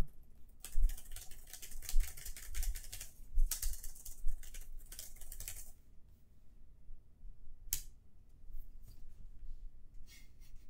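Someone types on a computer keyboard, producing quick bursts of clattering keystrokes for several seconds. The typing then fades to scattered taps and one sharp click, with no talking over it.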